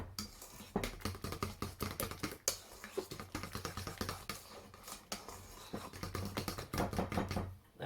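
A fork beats milk into cake batter for a lemon drizzle cake, giving a fast run of close, sharp clicks and scrapes against the bowl that continues steadily with no talking.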